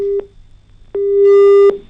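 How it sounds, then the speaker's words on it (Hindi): A telephone busy tone sounds after a call drops. Clean, loud beeps repeat at an even pace, with a short pulse followed by a longer sustained tone, and nothing plays beneath them. "फोन कट गया है, दोबारा कोशिश करेंगे उनको जोड़ने की"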